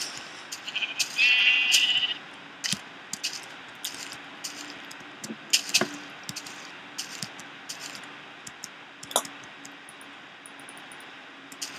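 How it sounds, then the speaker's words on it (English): A sheep bleats once, briefly, in a video game, followed by scattered soft clicks and taps over a quiet background. "I hear a sheep too."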